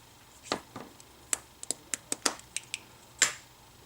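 Ink pad tapped onto a stamp for wedding card making, a series of sharp, close, irregular taps and pats on a quiet background.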